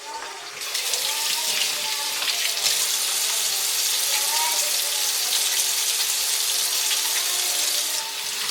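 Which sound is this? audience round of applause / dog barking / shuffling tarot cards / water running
water running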